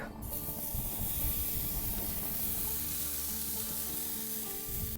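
Steady, loud sizzling of steak searing on a hot grill, a continuous crackling hiss with no talking.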